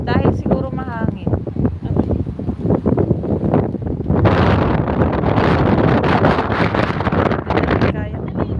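Wind gusts buffet the microphone at a Turku beach in Finland during a summer picnic. People chat first, then a loud, rough rush of wind takes over for several seconds before easing as talk resumes.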